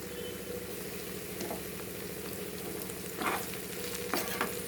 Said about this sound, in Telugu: చక్కగా దీన్ని ఫ్రై కానివ్వండి.